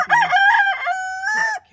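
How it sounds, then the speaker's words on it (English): A Deathlayer rooster crows once, close and loud, a single full cock-a-doodle-doo lasting under two seconds with a clear ringing tone, alone with no other sound. "there's Okara, my last true Deathlayer. That's him right here, my handsome boy"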